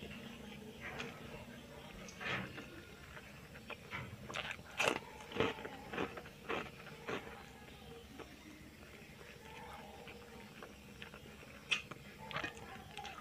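Close, sharp crunching bites and chewing come in irregular bursts as spicy stingray cooked in sambal is eaten with crispy kerupuk crackers, fairly quiet between crunches.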